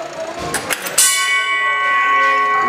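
After a brief rattle, a single loud fire hall alarm bell is struck and rings on with a long, bright, sustained tone.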